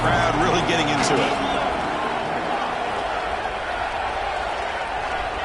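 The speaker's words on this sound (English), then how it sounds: "the crowd really getting into it" A football stadium crowd roars steadily on a third-down play, a broad, loud wash of cheering with brief clapping near the start and voices mixed in throughout.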